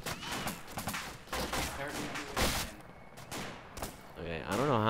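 Gunfire in the military video game ArmA II, loud, rapid volleys of shots cutting in and out, with someone speaking over and between the bursts.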